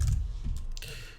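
A short burst of typing on a computer keyboard, a few quick soft key clicks close up, with no speech.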